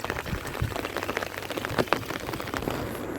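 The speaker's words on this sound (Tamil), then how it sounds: "கண்டினியூஸாக மழையும் பெஞ்சிட்டே இருக்குது" Continuous rain falls over a flooded paddy field, a steady dense patter of drops with scattered louder splashes, close and unbroken, with no talk.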